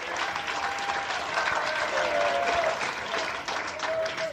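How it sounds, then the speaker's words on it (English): A studio audience gives a sustained round of applause for comedian Dana Carvey at a live comedy show, steady dense clapping filling the room throughout with a few faint whistles and cheers riding on top. "Having a nice round of applause."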